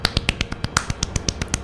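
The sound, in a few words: soft applause imitated with finger snapping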